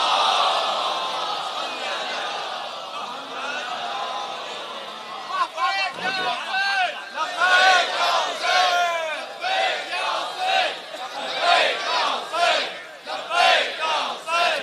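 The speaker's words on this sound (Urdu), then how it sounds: "صلوات پڑھیں محمد و آل محمد۔ صلوات بر محمد و آل محمد" A large Sunni and Shia congregation at a majlis loudly recites salawat in unison, a dense roar of many voices rising and falling in rhythmic waves that follows a quieter stretch of crowd murmur.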